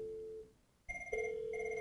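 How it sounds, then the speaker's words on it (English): An outbound call over a UCME voice dial plan produces a ringback tone on the phone line, a steady electronic ring that stops briefly and then resumes, clear and alone. "now we can hear that the phone is ringing"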